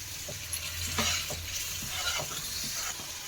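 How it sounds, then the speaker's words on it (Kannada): Pasta sauce with added water is stirred in a hot pan, a steady sizzle broken by repeated scraping strokes of the spoon, close and continuous. "ಚೆನ್ನಾಗಿ ಮಿಕ್ಸ್ ಮಾಡ್ಕೊಳ್ಳೋಣ."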